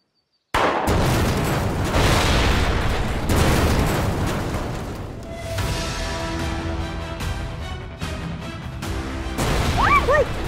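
A sudden loud explosion in a Thai TV drama scene erupts, followed by rumbling debris and crackling, with further bursts and crashes trailing off over several seconds.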